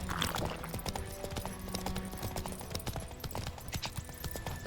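Horse hooves clip-clop in The Witcher 3 video game, a quick, steady stream of close hoofbeats on hard ground, with faint game ambience behind and no speech.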